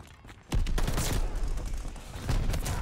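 Rapid shotgun blasts in an online first-person shooter gunfight, dense overlapping shots firing close and loud in a sustained burst with no talk.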